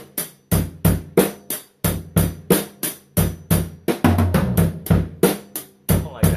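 A fast drum fill of sharp, open-sounding hits rolling across the kit in quick succession, loud and unaccompanied, with a busier cluster near the end.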